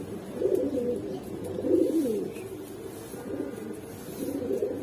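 Hurricane pigeons cooing in soft, repeated low rolling phrases, close and steady over a faint background hum, with no talking.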